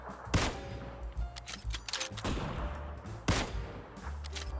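Gunfire in the battle royale game PUBG, near a bridge during a vehicle ambush, comes as a few sharp bursts and single shots spread over several seconds at moderate level.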